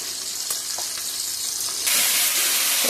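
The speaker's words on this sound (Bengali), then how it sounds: "আলুটাকে ভাজার জন্য দিয়ে দিলাম" Potatoes sizzle steadily in hot oil in a pan, a close, even crackle that swells suddenly louder about two-thirds of the way through.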